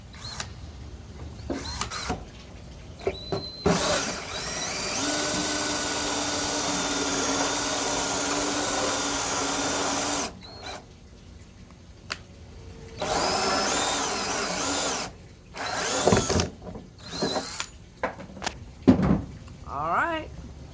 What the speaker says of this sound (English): hubby's going to drill us a nice hole